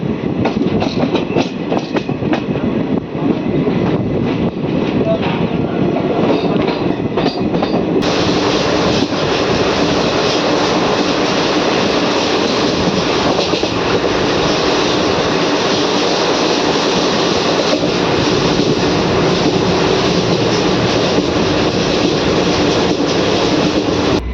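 The Guntur–Vikarabad Palnadu SF Express roars along at speed, heard from onboard as a loud, unbroken rumble of wheels on rails with faint rhythmic clatter throughout.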